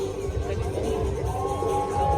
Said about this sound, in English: The crowd are absolutely wild